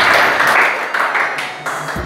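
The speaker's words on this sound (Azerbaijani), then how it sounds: "Alqışlar komanda üçün" Applause from a classroom of students for a team, a burst of loud clapping that fades gradually over two seconds.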